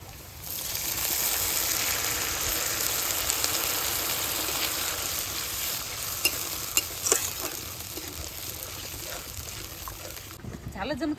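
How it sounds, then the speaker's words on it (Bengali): Mutton with green chilli paste fries in a pan for a Bengali-style curry, a continuous sizzle with scraping stirs and a few sharp clinks near the end. "ভালো করে ভেজে নিয়েছি এবার একটু জল দিয়ে দেবো"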